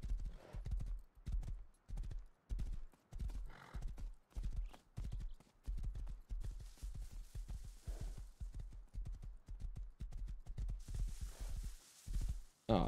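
Horse hooves pound in a rapid, rhythmic clip-clop gallop in the survival video game Rust, steady and close for the whole stretch, with faint breathy noises between strides and no talking.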